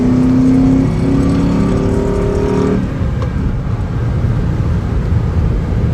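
A 2008 Shelby GT engine revs loudly nearby, pitch climbing then dropping off as the throttle eases, leaving a lower rumble.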